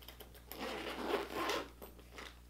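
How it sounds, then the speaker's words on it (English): A Longchamp bag being zipped closed, a soft continuous zipper rasp lasting about two seconds, close and fairly quiet with no talking. "And you can zipper it."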